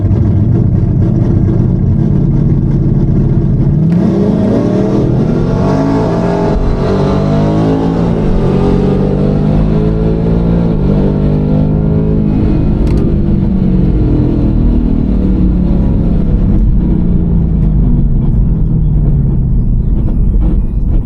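A Ford Coyote V8 car with a 10R80 automatic and an upgraded torque converter roars through a drag strip pass, loud and close, climbing in pitch through several gear changes before easing off at the end.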